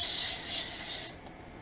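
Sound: spraying Pam cooking spray onto aluminum foil

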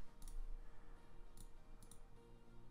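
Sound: computer mouse clicking

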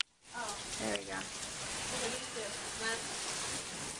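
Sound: rain falling

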